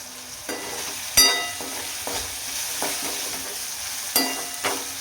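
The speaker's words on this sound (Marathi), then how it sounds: "आता परत एकदा आपण परतून घेऊया." Bottle gourd curry being stir-fried in a pan, with a low sizzle under occasional sharp scrapes and clinks of a spatula against the pan, a few distinct strokes spread across the moment.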